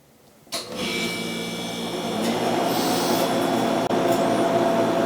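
A freeze dryer switches on abruptly and settles into a steady, loud mechanical hum and whir with a constant tone, running without pause.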